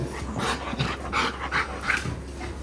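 A dog panting at night, quick rhythmic breaths close by but fairly quiet, steady over a couple of seconds with no talking.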